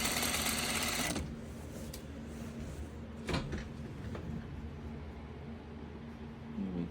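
A sewing machine stitching the seams of a fabric tote bag, a loud, fast, close mechanical whirr for about a second that then stops, followed by quieter handling knocks and fabric shuffling, with no talking.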